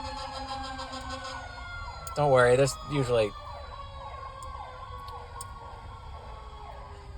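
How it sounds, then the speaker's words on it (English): A wailing emergency siren rises and falls continuously in the distance, with a person talking briefly over it partway through. "oh wait, here comes the sirens"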